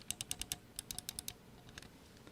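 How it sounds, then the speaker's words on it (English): A Glorious Model I gaming mouse gives close, quiet plastic clicks from its scroll wheel and DPI switch. One crisp run of five ticks is followed by a second run of six, then a couple of fainter clicks. "Scroll click, scroll movement, and the DPI switch."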